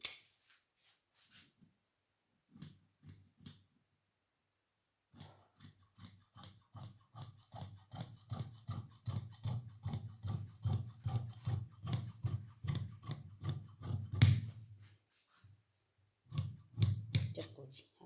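Scissors snip through salwar fabric in a run of crisp, rapid cuts, with short isolated snips first, then a long steady stretch of cutting and a brief final burst.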